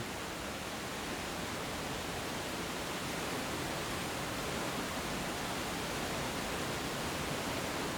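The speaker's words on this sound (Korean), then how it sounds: "토왕성 폭포의 물줄기가 아찔한 절벽을 타고 쏟아집니다." Towangseong waterfall, about 320 m high, pouring down a sheer cliff, heard as an even, unbroken roar of falling water, constant and enveloping, with no talk.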